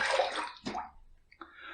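Water runs from a tap for a rinse after a wet shave with almond shaving cream, a broad splashing hiss that breaks off and returns in shorter bursts, close by with no talking.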